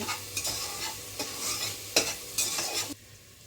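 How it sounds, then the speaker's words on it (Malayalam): Chopped onions frying in a pan for chicken biryani, stirred in several separate scraping strokes over a soft sizzle, close and fairly quiet, stopping near the end. "നമ്മൾ സവാള അരിഞ്ഞ് വെച്ചിട്ടുണ്ട്. അത് നല്ലതായിട്ടൊന്ന് ഇളക്കുവാണ്"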